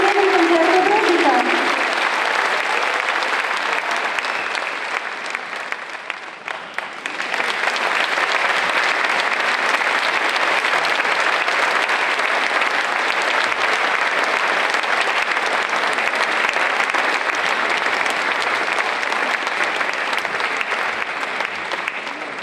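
Sustained audience applause after a charity concert fills the room, loud and steady from start to finish, with a brief dip partway through before the clapping swells again.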